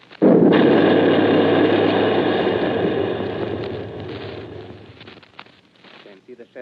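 An artillery gun fires in a 1938 alien-invasion radio drama: one loud, muffled boom that rolls into a long, slowly fading rumble, with faint sounds trailing at the end.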